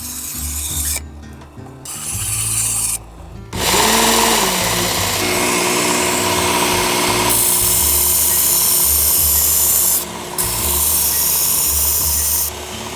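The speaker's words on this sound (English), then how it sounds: "you instantly have a professional grade knife sharpener" Powered knife sharpener grinding a dull kitchen blade, loud harsh rasping in repeated passes with brief gaps between strokes, motor hum underneath, no voices.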